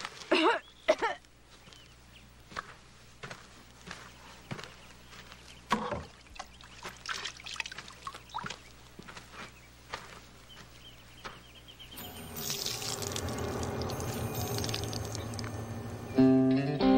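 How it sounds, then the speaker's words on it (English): Water poured or trickling into a container in an Old West setting, a steady splashing pour rising in the last few seconds after scattered clatter and movement sounds. "Add some water."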